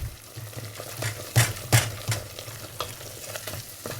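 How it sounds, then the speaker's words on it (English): Hot molten sugar for peanut brittle is stirred in a pot, with scraping strokes and a couple of louder clanks from the utensil over a low bubbling hiss, close and fairly quiet. "Just gonna stir it up."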